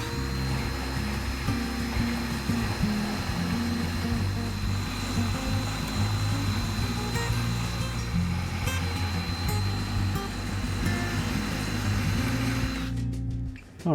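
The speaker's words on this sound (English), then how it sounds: "I'm just going to use this sanding drum in my flexible shaft." A sanding drum spinning on a flexible shaft tool smooths a wooden sound port, giving a steady, loud, continuous motor whine with fluctuating grinding tones that stops abruptly at the end.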